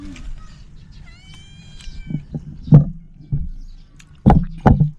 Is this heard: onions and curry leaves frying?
no